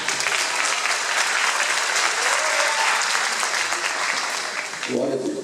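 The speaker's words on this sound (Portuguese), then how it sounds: "Aplauda o Senhor" A church congregation applauds in sustained, dense clapping that fills the room at steady loudness, with a voice briefly rising over the clapping near the end.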